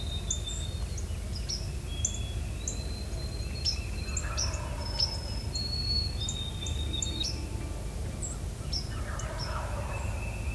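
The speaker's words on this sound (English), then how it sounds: "The three of us were listening to several toms gobbling in the distance" Several wild turkey toms gobble in the distance at sunrise, their calls coming in repeated bursts over a steady chorus of insects and scattered birdsong.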